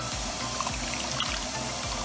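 Water pours steadily into a pot of turkey chili with beans, a continuous splashing trickle with rhythmic gurgles. It is close and alone, with no talk.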